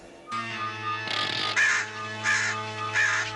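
A robot bird in a He-Man cartoon caws like a crow, giving three loud, harsh calls in a steady rhythm over a constant low hum from the soundtrack.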